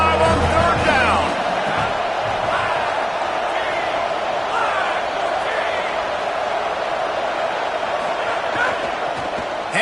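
A Buckeye football stadium crowd roars on third down, a loud, steady wall of cheering and whoops that holds for the whole stretch, with a few sharper shouts rising out of the din.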